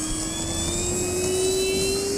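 A radio-controlled model airplane engine drones loudly and steadily, its high whine rising slightly in pitch as it flies close by.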